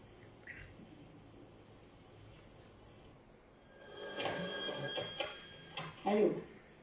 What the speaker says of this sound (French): Allô? Bonsoir, Bert